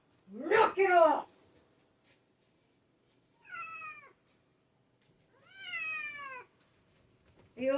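Cats during a fight with one another, a sharp close yowl first, then two long drawn-out wavering meows separated by silence, loud and nearby with no other sounds around them.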